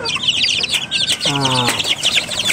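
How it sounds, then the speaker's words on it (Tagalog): A mother hen clucks with a few low calls while her flock of ten two-week-old chicks keeps up a steady, overlapping high peeping close by. "Ito ay mayroong 10 sisiw yun nandito sa ilalim."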